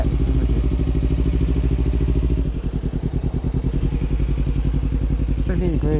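A motorcycle is ridden on a cold day, its engine droning loud and steady close by, with the pitch shifting as the rider changes speed, wind rumble, no voices.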